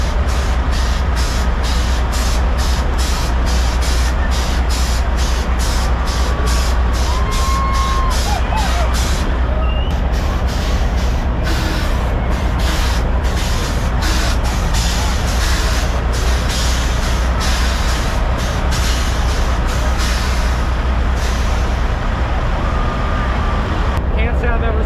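Heavy diesel semi-truck engines rumble steadily at idle, a deep continuous drone with occasional hisses and rattles, close and loud throughout.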